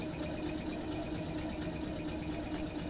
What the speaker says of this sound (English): let's take the tractor back into town.